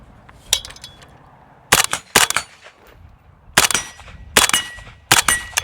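Several sharp, loud rifle shots from a 300 Blackout with an 8-inch barrel firing 150-grain rounds, each crack ringing off steel targets at an outdoor range, coming singly and in quick pairs with brief quiet gaps between.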